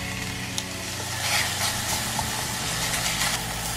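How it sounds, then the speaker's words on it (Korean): Beef stir-fries in an earthenware pot, a steady low sizzle and hiss running beneath a constant background hum, with faint scraping of the meat being stirred. "이제 에어란 뚝배기에 소고기 넣고 핏기가 없을 때까지 볶아주세요"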